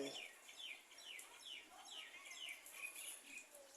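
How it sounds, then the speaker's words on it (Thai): Chickens clucking softly and repeatedly in the distance on a rainy day, steady background ambience with occasional higher chirps mixed in. "ไก่"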